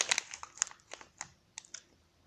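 Crinkly plastic wrapping around a citrus and lemon bath bomb is torn and opened in a series of sharp, close crackles and snaps, irregular and quick, with quiet pauses between.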